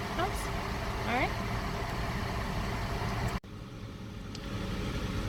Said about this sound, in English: the background noise of the AC of the car